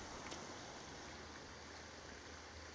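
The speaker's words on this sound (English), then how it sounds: "You're going to follow the sound of that waterfall." A waterfall in the video game Sons of the Forest pours as a steady, faint broadband rush of falling water, continuous and unbroken with no voices.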